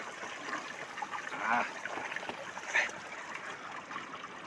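Water is scooped and poured into a vessel during traditional butter making in Gilgit-Baltistan, giving two brief splashy pours over a steady background of flowing, trickling water.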